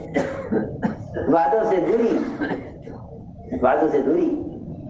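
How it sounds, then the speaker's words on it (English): Scattered coughs and throat clearing rise from a crowd at a religious gathering beneath a cleric's loud, continuous speech, close and reverberant. "Notice how people are coughing in the background"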